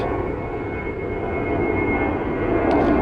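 Airplanes passing overhead outside make a steady, loud, broad engine roar that fills the whole stretch without pause.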